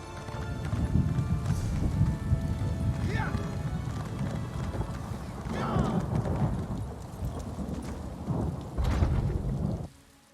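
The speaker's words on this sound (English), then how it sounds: "Now it's raining." Rain and rolling thunder in the video game Elder Scrolls Online keep up a dense, heavy rumble throughout, with a horse's clip-clopping hooves and faint speech-like sounds under the storm, cutting off abruptly at the end.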